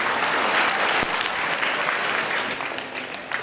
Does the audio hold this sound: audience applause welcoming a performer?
yes